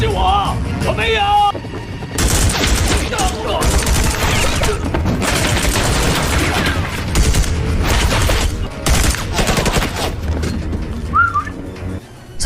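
A film gunfight between a sniper and drug-gang fighters: dense bursts of gunfire, rapid volleys and sharp cracks mixed with music and effects, loud and continuous, with brief voices under the action.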